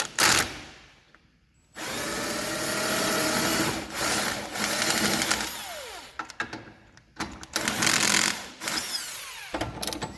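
A 17mm tool works the bottom bolt out of a TEIN Street Basis Z coilover on a Mazda Miata, with loud, close bursts of mechanical whirring and ratcheting separated by brief pauses.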